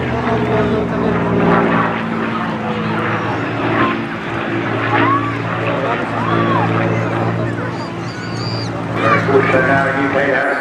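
A Spitfire flies overhead at the Torbay Airshow, its propeller engine a loud, steady droning roar throughout, while an announcer talks over the public address.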